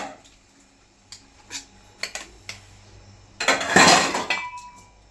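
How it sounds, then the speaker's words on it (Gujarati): Dishes and utensils being washed at home, with sparse clinks and knocks of metal pots and cutlery, then a louder stretch of clattering and splashing near the end. The sounds are close and there is no talking. "હું વાસણ ઉટકી લઉં"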